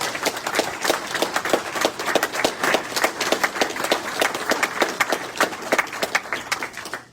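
Audience applause welcoming the mayor of Waller City at a 2021 Masonic lodge installation, a sustained burst of many hands clapping at close range for several seconds.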